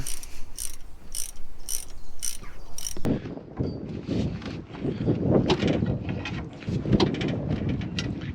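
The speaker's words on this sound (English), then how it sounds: "if I take this ring of bolts off right here, it should all just come apart" A ratchet spanner clicks rapidly while taking a ring of bolts off the engine of a Mk2 Stalwart under restoration, crisp repeated ratcheting close up, then heavier clanking and scraping of metal parts, with no talking.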